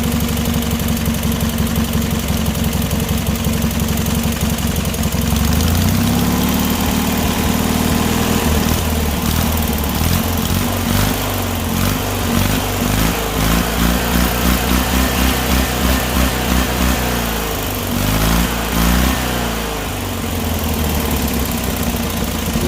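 A Briggs & Stratton opposed-twin small engine runs loud and close throughout, a steady rough idle that rises and falls as it revs, with uneven pulsing in the middle.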